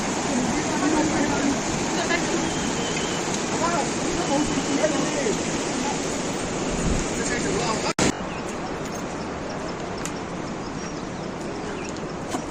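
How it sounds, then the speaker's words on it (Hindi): A mountain river on the Kedar yatra route in Uttarakhand rushes in a steady, dense roar that fills the whole stretch, with one brief break partway through. "यहाँ थोड़ी देर शांत होकर इस नदी की आवाज़ सुनो।"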